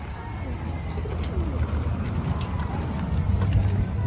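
Pigeons coo at an outdoor market, soft low rhythmic calls repeating close by over a murmuring background of people and distant traffic.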